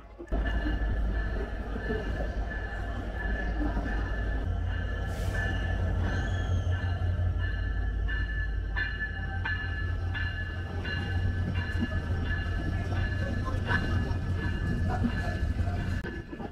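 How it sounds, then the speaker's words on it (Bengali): The Chitra Express rolls into platform 2 at Ishwardi Junction, running hours late, with a loud, continuous heavy rumble, sustained metallic squealing tones and rhythmic wheel clicks throughout. "আমাদের ট্রেন প্রবেশ করছে ঈশ্বরদী জংশনের 2 নম্বর প্ল্যাটফর্মে"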